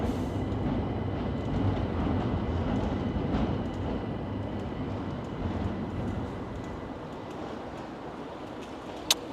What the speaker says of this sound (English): We hear this, that is the train going by.